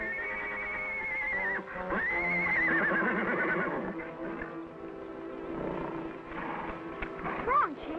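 A horse whinnies loudly in a long, shaky neigh, then snorts and neighs again amid background commotion.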